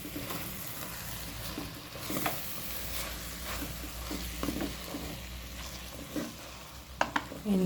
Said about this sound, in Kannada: ಹಾಕಿದ ತೆಂಗಿನಕಾಯಿಯ ತುರಿ ಸ್ವಲ್ಪ ಬೇಯಲಿ